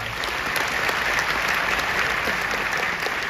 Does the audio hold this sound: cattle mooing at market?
no